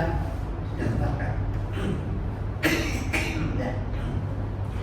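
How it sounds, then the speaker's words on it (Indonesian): A couple of short, sharp coughs break through a steady background hum, close to the listener, with no talking in between. "Maaf, agak batuk sedikit."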